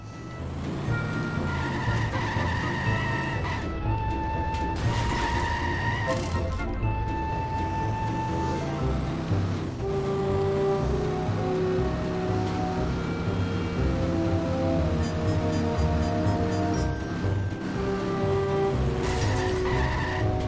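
Car driven in The Simpsons Hit and Run video game, with repeated tire squeals and skids over a continuous engine whine, plus sharp crack-like impacts, loud and sustained.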